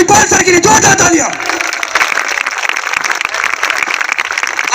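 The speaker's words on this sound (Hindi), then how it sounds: "अब तक के सबसे जोरदार तालियां हमारे महागुरु श्रीमान महिपाल सर के लिए, जोरदार तालियां" Loud crowd applause for a revered guru at a motivational gathering breaks out after a voice announcing it, then continues as dense, steady clapping from a large audience.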